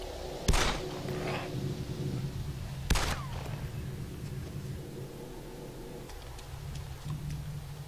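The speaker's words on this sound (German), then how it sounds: "Ich werde kurz schießen." Two separate gunshots crack out in DayZ Epoch a couple of seconds apart, each sharp and fairly near, over a steady low ambient hum.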